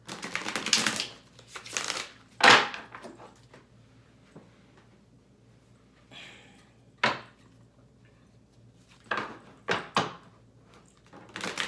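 A deck of tarot cards is shuffled in several short, crisp bursts of riffling and tapping, separated by quiet pauses.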